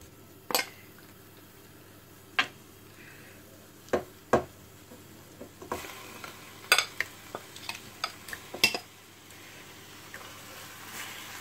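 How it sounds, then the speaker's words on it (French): Lamb pieces browning in oil in a pan for curry, heard as a quiet sizzle broken by scattered clinks and knocks of a utensil against the pan, irregular and close, with no one speaking. "Je vais mettre les morceaux de viande. Je ne vais pas les faire cuire, juste qu'ils obtiennent une belle dorure."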